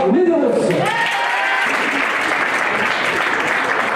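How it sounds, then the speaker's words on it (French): A crowd at a Saint-Étienne festival prize ceremony applauds the first-place woman in a Scratch ranking. A voice briefly speaks at the start, then dense, steady, loud clapping fills the rest. "je vous demande d'applaudir fortement la première de ce classement Scratch"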